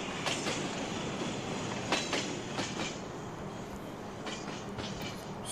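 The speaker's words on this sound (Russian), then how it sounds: "А вот и, кстати, электричка едет у нас." An electric commuter train rumbles past nearby, a steady broad roar with rhythmic clicks of wheels over rail joints.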